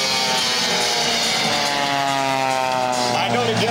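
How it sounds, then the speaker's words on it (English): Jimmy Franklin's aerobatic propeller airplane flies low at the 2004 Quad City Airshow, trailing smoke: a loud, sustained engine drone with a pitch that slowly shifts as the plane passes close overhead. "Right down on the deck, the smoke belching out of the exhaust on that engine."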